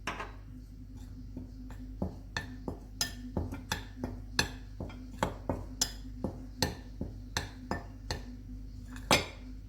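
A utensil clinks and taps repeatedly against a bowl while food colour, vanilla essence and baking powder are mixed into flour, giving rhythmic, close, bright knocks over a low background hum.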